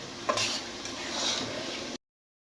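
Tomato-based fish curry cooking on a stove, stirred with a few scrapes of the spoon over a soft simmering sizzle, cutting off abruptly.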